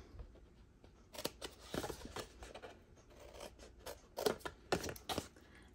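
Scissors cut a paper treat box template, trimming tabs and corners in a series of close, crisp snips and slicing strokes that come in irregular bursts, with no talking.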